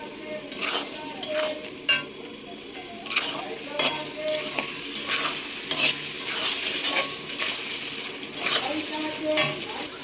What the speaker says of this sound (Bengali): আমার এখানে মশলা দিয়ে কষানো হয়ে গেছে